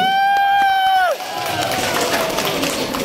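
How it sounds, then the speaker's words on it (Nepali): A held whistle-like tone breaks off into a loud, dense wash of crowd clapping and cheering at a dance competition, continuing steadily to the end. "यसैको उपलक्ष्यमा ताली बजाउँदा फेरि एकचोटि"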